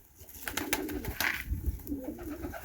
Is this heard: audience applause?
no